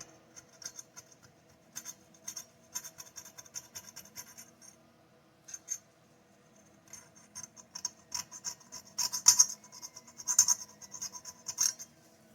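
Hand file rasping on aluminum while porting a Homelite Super XL chainsaw, a run of dry scraping strokes that starts sparse and grows denser and louder toward the end, close up with no talk.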